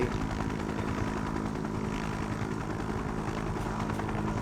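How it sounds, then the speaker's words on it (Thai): A jet aircraft flying in the video game Just Cause 3, heard as a steady, loud, broadband engine roar and rumble that holds without a break, with no talking. "โอ้เครื่องบินนี่ไปเร็วมากเลยนะเครื่องบินเจ็ตอะ"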